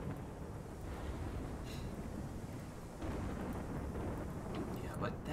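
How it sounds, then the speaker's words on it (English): Thunder from a flash storm in the colony-building game RimWorld rumbles as a low, continuous roll. It swells louder partway through, with a voice speaking faintly over it. "Flash storm. Pretty close."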